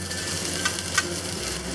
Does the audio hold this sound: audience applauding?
no